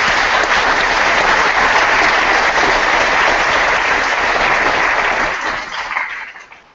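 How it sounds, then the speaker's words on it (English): Indoor audience applause for the support team at a science internship program kickoff event at UC Santa Cruz: loud, full, continuous clapping from a sizeable crowd, fading out over the last second or so. "I think this would be a great moment to give every one of these people a big round of applause"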